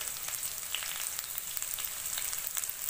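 Spices frying in a pan for a potato and puti fish curry: a close, steady sizzle with rapid crackles and pops, with no voices.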